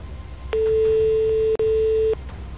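A telephone ring tone sounds after a number is dialled: two long steady electronic tones with a short break between them, clear and close, with no voices.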